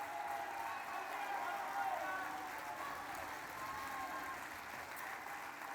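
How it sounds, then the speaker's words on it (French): A crowd at a Marine Le Pen rally in Stiring-Wendel applauds continuously, a broad wash of clapping and cheering that is loud and even throughout, with voices mixed into the noise. "Je vous demande de l'applaudir comme il le mérite"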